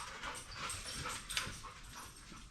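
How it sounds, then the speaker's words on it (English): Dogs pant quickly and let out faint whimpers nearby, a soft, breathy, irregular rhythm with no talking. "Crazy ass dogs."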